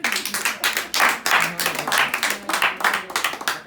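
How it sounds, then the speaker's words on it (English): An audience claps at a scholarship award ceremony in bursts of distinct, fairly close hand claps with an uneven, pulsing rhythm that swells and dips from moment to moment. "Clap for the Pekin there"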